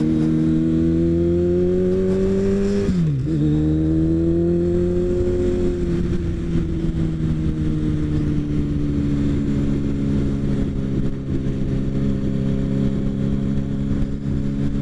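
A motorcycle being ridden with its engine droning steadily and close, the revs dipping sharply for a moment near the start before settling back into an even hum, with no talking.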